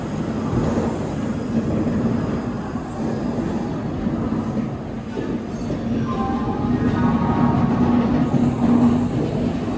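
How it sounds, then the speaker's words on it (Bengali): Kaviguru Express, train 13015 with new LHB coaches on the Howrah–Jamalpur route, pulls out with a continuous heavy rolling rumble, rhythmic wheel clatter and faint metallic squeals building slightly as it leaves, with no voices. "এই ট্রেন বেরিয়ে গেল।"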